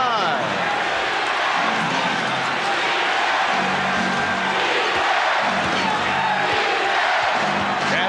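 A basketball arena crowd roars and cheers during the 1991 NBA Finals Game 5 between the Lakers and Bulls, a loud continuous wash of noise with a play-by-play commentator talking over it.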